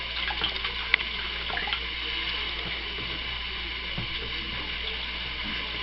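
A shower runs steadily while a child bathes a doll, a close, continuous hiss of water with a few small bumps and splashes and no talking.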